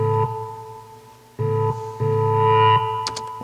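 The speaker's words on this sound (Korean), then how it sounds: "그다음에 뭐 기타에서 하울링이 나는 소리인데요" Sustained guitar howling feedback inside a DJ competition track, a steady pitched electric drone with echo and distortion effects, cut into rhythmic bursts with brief gaps and a rising shimmer near the end.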